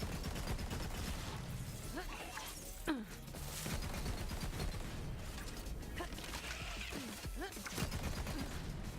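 Borderlands 3 fully automatic explosive shotgun firing in rapid irregular blasts, with crunching impacts and mechanical clatter layered into a dense, busy mix, and some faint talk underneath.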